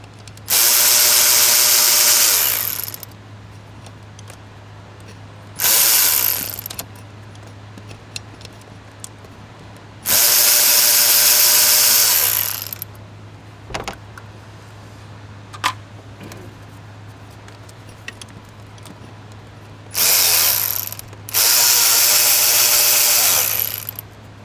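A power tool whirs in five loud, separate bursts of a few seconds each while removing triple square bolts near the front main seal of a 2013 VW Touareg, with quiet clinks and handling noises between bursts.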